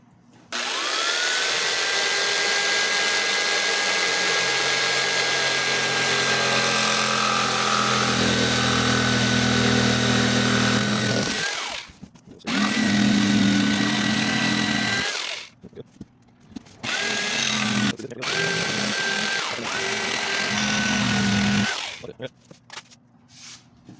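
A power tool with a high, steady motor whine cuts a Telecaster-style guitar body out of wood, running loud and continuous with brief pauses and restarts, and voices talk in the gaps.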